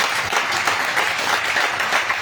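Steady applause from a worship congregation at a church adoration gathering in Grand-Bassam, dense and continuous clapping with a faint crowd murmur under it.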